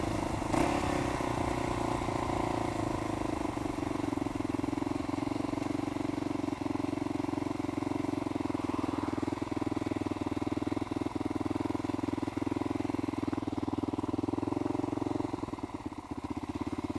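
A Kawasaki KLR motorcycle runs steadily with a sustained engine drone and light mechanical clatter, heard up close throughout with no talking.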